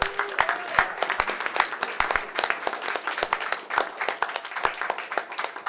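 A hackathon audience applauds the presenters together, giving a burst of scattered, fairly close clapping that runs for several seconds with a few voices mixed in.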